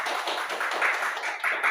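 A classroom of students claps together during a mathematics lesson, a short burst of dense, close handclapping that holds steady and ends abruptly.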